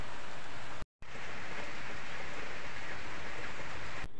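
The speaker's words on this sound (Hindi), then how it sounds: "और बाहर बारिश भी आ रहा है" Steady rain falling outside during a power cut at lunchtime, a dense, even hiss of drops that fills the whole stretch, broken only by one sudden moment of silence early on.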